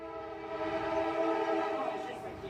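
A train horn sounds one sustained, loud multi-tone blast that holds steady for over two seconds before easing slightly, heard outdoors with faint rumble beneath.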